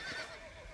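A horse in Red Dead Redemption gives a short, faint whinny, brief and distant-sounding, fading quickly.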